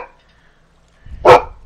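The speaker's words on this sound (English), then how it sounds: "You always be barking about something random." A single loud, close dog bark sounds after a near-silent pause, with faint talk just before it, during play of the fishing game Fishing Sim World: Pro Tour.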